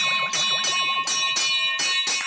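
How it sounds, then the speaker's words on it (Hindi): A temple bell clangs repeatedly in quick, steady strokes, each bright metallic strike ringing over the last, loud and close with no talk. "अरे मंदिर की घंटी है भाई"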